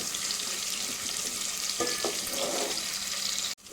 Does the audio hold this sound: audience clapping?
no